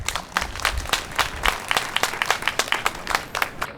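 Audience members clap at a Yonsei memorial night for Lee Han-yeol. The applause is moderate and uneven, with individual claps distinct in a lively, fairly close patter throughout.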